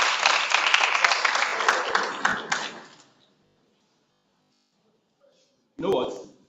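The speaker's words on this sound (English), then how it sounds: "Please clap for him, please." An audience at an entrepreneurship week event claps for about three seconds, fading out into near silence, followed by a brief burst of voice near the end.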